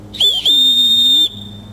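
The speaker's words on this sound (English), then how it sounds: "I got a whistle." Whistle built into a stainless steel spork multi-tool, blown close and loud as a short chirp followed by a longer steady shrill tone lasting about a second, with no talking over it.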